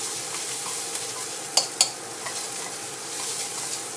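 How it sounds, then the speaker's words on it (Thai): Ingredients sizzle steadily in a hot wok while being stir-fried until fragrant, a constant bright hiss punctuated by a couple of sharp scrapes and clinks of the spatula, with no talking. "ผัดให้หอมนิดนึงนะคะ"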